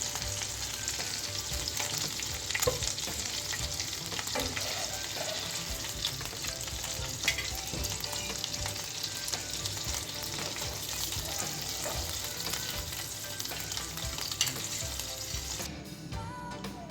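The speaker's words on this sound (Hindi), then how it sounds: "बाकी के जो हमारे सीख कबाब है तो उसको मैं फिर फ्राई करती हूँ" Seekh kebabs fry in a pan with a steady, close sizzle and crackle of hot oil, occasional stirring clinks, and a brief clatter near the end.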